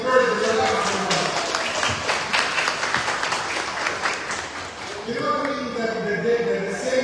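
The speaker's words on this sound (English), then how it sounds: "give him a round of applause to encourage Brother Abdul Basit" A Ramadan gathering bursts into a round of audience applause for Brother Abdul Basit, dense clapping for about five seconds before it thins out and a voice resumes talking.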